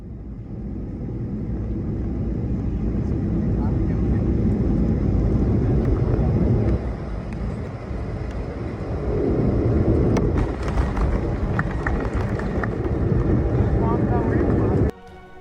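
An airliner coming in to land, a steady low engine roar heard from inside the cabin that swells and dips, with faint rattles and clunks toward the end.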